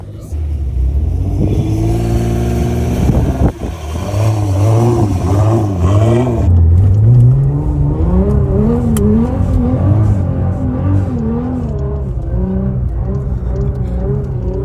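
Nissan GT-R R35 engine revving hard while stuck in Sahara desert dune sand, loud and close, with rising and falling pitch sweeps over a steady roar and voices talking over it.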